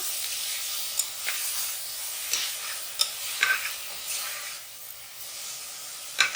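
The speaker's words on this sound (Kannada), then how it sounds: "ಅದೇ ಬಿಸಿನಲ್ಲೇ ಅದು ಫ್ರೈ ಆಗಬೇಕು." Half a cup of mint leaves frying in a hot pan with the stove switched off, giving a soft, steady sizzle broken by several scraping stirs of a spoon.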